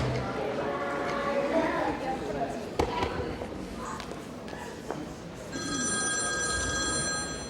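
A telephone bell rings loudly and steadily in the final seconds, after a stretch of talking and background knocks and clatter.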